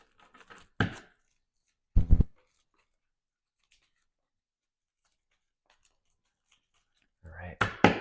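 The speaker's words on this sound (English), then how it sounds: "Let's shuffle up the Encounter deck." Cards from a game's encounter deck are shuffled in a few short crisp riffling bursts, close to the mic, separated by quiet gaps, with the longest flurry near the end.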